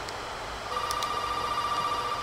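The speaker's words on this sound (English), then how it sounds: "the phone is ringing" Telephone in Resident Evil 7 starting to ring, a thin steady electronic tone over a quiet hum of room noise.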